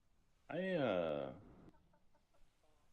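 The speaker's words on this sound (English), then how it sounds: "There was a bird stuck under the docks." A bird in the video game ATLAS gives one loud, drawn-out squawking cluck near a dock, followed by a few faint clucks.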